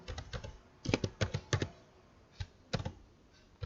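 Keys clack on a computer keyboard in quick bursts of several strokes separated by short pauses, close and fairly quiet, with no talking.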